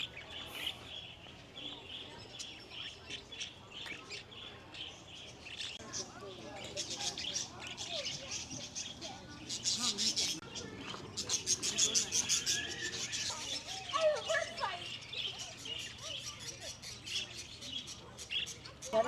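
Wild parakeets being hand-fed chatter and chirp in busy, overlapping bursts, growing louder and denser toward the end, with a person's voice mixed in among the calls.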